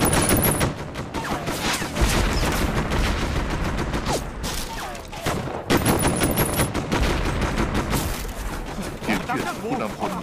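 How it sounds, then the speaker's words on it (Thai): Repeated bursts of gunfire during the 1911 Wuchang uprising, a dense crackle of rifle shots, some rapid and fusillade-like, continuing for about ten seconds with brief gaps in the firing. "นักปฏิวัติจากกองพันทหารช่างที่8ทำเสียงปืนแตกเป็นครั้งแรกในการลุกฮือที่หูชาง"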